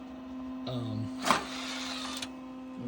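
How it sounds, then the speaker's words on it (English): Steady whirring hum of a vintage Windows 2000 computer's cooling fans running close by, with brief mechanical whines and a single clunk rising over it. "Has some noisy fans"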